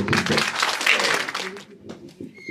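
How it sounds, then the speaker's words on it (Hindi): Loud applause from an audience at a commemorative gathering, dense and sustained for about a second and a half before thinning into scattered claps. "ऐसे ही जो है बल्लारा साहब हमारे बीच में है, एक बार जोरदार तालियों से"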